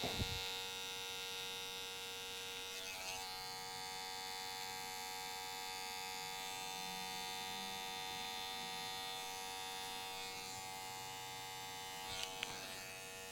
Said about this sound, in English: So now we want to make a nice sharp line on the back of his neck. And we're going to shave to it.